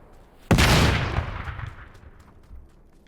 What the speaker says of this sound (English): Incoming! Someone's mortaring us. I got hit by the mortar.